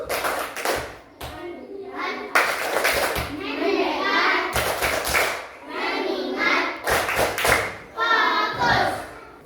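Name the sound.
children clapping hands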